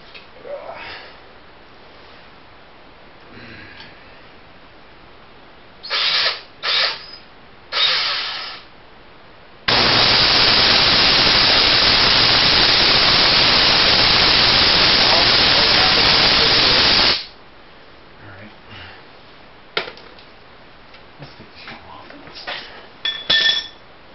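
Tesla hairpin circuit with multiple spark gaps arcing, a loud continuous buzzing crackle lasting several seconds, framed by shorter bursts and quiet handling noises.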